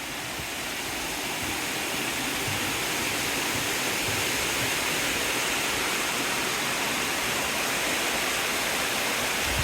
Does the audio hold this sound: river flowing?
yes